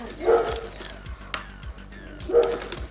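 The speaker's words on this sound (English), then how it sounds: "Dogs are fighting on my street." Dogs fight on a street, with two loud bursts of snarling, yipping barks separated by a short pause, nearby and harsh, plus scattered thumps in between.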